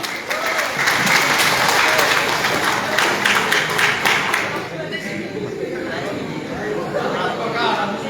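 An audience at an inauguration ceremony for young volunteers backing a regent campaign bursts into loud, sustained clapping with crowd chatter, swelling for several seconds, then easing to a steadier murmur of hands and voices.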